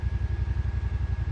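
A Yamaha RMAX4 side-by-side with a hard cab sits idling, its engine giving a steady, loud low-pitched pulsing throb with a fast, even beat and light mechanical clatter.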